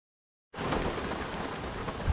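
Torrential rain pouring down outdoors at a river kayak launch, a sudden dense, steady roar of heavy rainfall starting abruptly and continuing loudly without speech.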